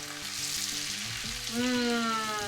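Garlic sizzles and fries in foaming butter in a pan with mushrooms, a steady close crackle that swells and brightens partway through, with no talking.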